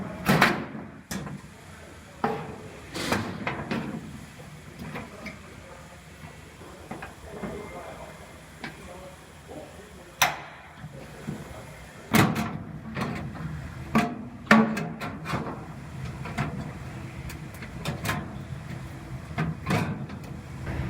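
Sheet metal wheelhouse pieces being fitted onto a Chevy truck bed: irregular metallic clanks, thuds and scraping taps spread across the span, some sharp and close, with a person talking in between.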